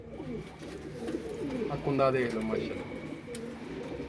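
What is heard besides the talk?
Kasuri pigeons cooing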